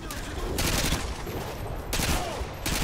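Gunfire in Call of Duty: Modern Warfare 2, with several bursts of shots, loud and fairly close, set against a steady noisy game backdrop.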